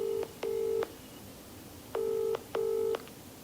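A telephone keypad dials a number, sounding four distinct tones in two pairs with short gaps, close and clear, with no talk.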